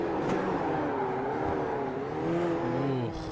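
Open-wheel race cars at Spa in a sim racing game, tyres squealing through the bus stop chicane, with a steady loud engine drone and a rising, wavering screech near the end.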